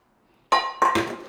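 A frying pan is set down in a home kitchen while preparing a potato gratin, giving two quick metallic clinks close by, the second with a brief ringing tail, after a near-silent start.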